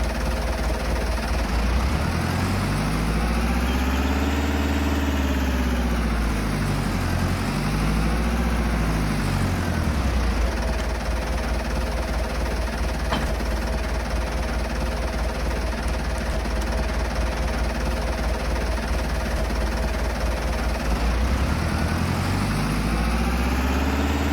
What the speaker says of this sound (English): So here is our, brush mower, tractor. And it kind of is a nice little utility tractor, too.